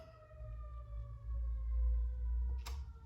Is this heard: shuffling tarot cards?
no